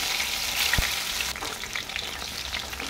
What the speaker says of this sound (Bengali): এবার এই পুরটা কেটে রাখা করলাগুলোর মধ্যে ভরে ফ্রাই করে নেব